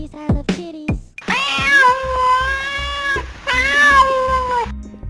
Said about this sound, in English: You love kitties, I love kitties.